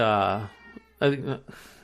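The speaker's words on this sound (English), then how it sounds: "now I got my cat meowing at me" A cat meows loudly nearby, a drawn-out wail followed by two shorter cries, indoors.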